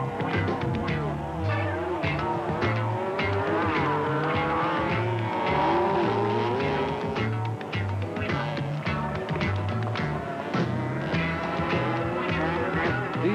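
80cc motorcycles racing on a track, their high-pitched two-stroke engines whining and rising and falling as several machines pass close by, loud and continuous, with overlapping revs.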